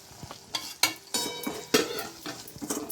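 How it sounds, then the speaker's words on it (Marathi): Chili powder, garam masala and turmeric are stirred into a sizzling tempering in a pan, with several sharp scraping spoon strokes over a continuous close fry. "लाल तिखट, गरम मसाला आणि हळद"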